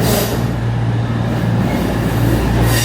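A freight train hauling four tanker wagons rolls past, a loud continuous rumble with a steady low hum and broad rushing noise throughout.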